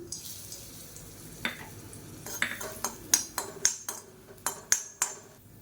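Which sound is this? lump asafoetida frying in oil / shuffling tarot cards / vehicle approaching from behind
lump asafoetida frying in oil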